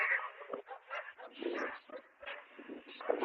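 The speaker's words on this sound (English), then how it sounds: "those dogs barking at each other" Several small dogs, a Chihuahua pack met on a city street walk in Columbus, bark, yip and whimper back and forth in quick overlapping bursts at middle distance, with faint voices mixed in.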